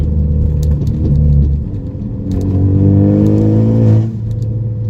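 A Ford Focus ST with an aftermarket charge pipe and Tial blow-off valve accelerates hard under turbo boost. The engine rumble climbs through revs in close, loud pulls, with a brief dip between them before it eases off near the end.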